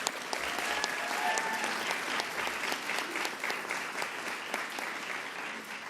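Sustained applause from an audience at a Long Island public event honoring the governor, a thick wash of clapping at even loudness across the whole stretch, with faint crowd murmur beneath.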